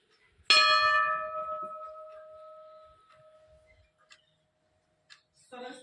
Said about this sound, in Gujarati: આ એમનો મોટો એકદમ સરસ ઘંટ છે